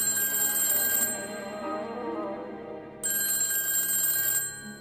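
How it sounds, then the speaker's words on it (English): A telephone bell rings in two bursts of bright, rapid trilling separated by a short pause, loud and close, with no voices. "a phone call notified the management that they were forfeiting the game"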